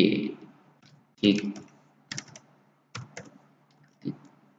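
Computer keyboard keys being pressed in a few separate sharp clicks spaced about a second apart, alongside brief muffled voice fragments.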